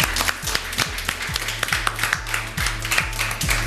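Rhythmic clapping from a small group of children and audience, with sharp individual claps repeating at a steady beat over a low background hum, fairly close.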